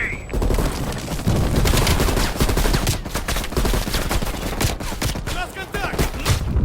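Sustained machine gun fire from the Call of Duty Cold War campaign rattles in rapid, continuous bursts, loud and close, with short pauses and scattered impacts throughout.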